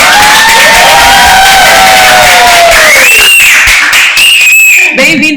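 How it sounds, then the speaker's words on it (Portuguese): Loud audience cheering, whooping and clapping to welcome a guest at a podcast recording, with shouted voices rising over sustained applause that thins toward the end. "Uma forte salva de palmas para a"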